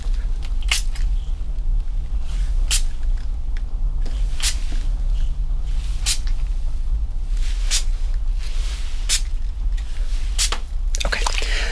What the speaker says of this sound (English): Okay, so here we go. We're going to spray.